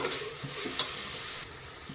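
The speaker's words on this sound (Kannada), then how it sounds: "ಒಂದು ಎರಡು ನಿಮಿಷ ಫ್ರೈ ಆಗಬೇಕು" Freshly ground masala paste frying in a pan, a soft steady sizzle with faint scraping and stirring knocks, close and fairly quiet, no talking.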